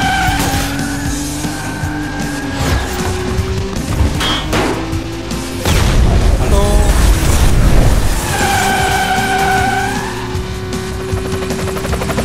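Racing cars in Split Second Velocity on a construction-site track screech and skid with roaring engines, then a loud crashing boom of a takedown hits midway before the engines and tire squeal continue.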